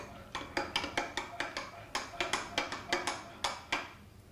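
A spoon stirs thick honey in a cup for a morning lemon drink, a quick run of bright, regular clinks against the cup that pauses once and resumes, close and clear with no talk.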